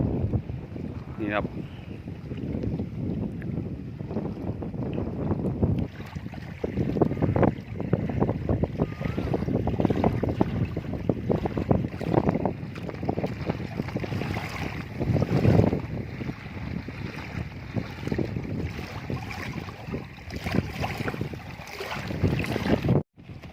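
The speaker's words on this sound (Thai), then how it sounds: "ลมแรงครับ ตอนเย็นกลางวันก็แรงเหมือนกันนะครับ" Strong wind buffets a small fishing boat at sea in stormy weather, a steady roaring rush with gusty microphone rumble and splashing water, continuous throughout with faint talk underneath.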